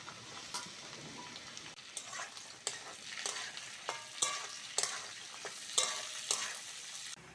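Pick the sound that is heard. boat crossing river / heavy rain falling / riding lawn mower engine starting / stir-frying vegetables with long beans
stir-frying vegetables with long beans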